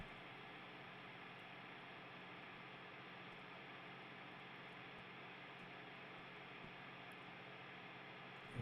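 White noise test signal played through a Helix filter, a flat, steady hiss that holds unchanged and fairly quiet throughout, with no voices.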